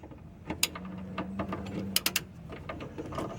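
A 1/2-inch ratchet fitted with an adapter and an 18mm socket clicks in short bursts of close ratcheting, working on a 2010 Nissan Versa front cross member.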